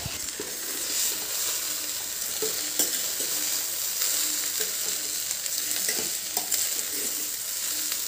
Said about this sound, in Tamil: மிதமான சூட்டிலேயே சாதமும் போட்டுடலாம்